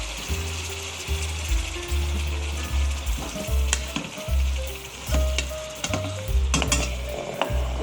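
Yogurt goes into a sizzling achar gosht masala of meat and spices, loud steady frying with a spoon stirring and scraping the pan in an uneven rhythm.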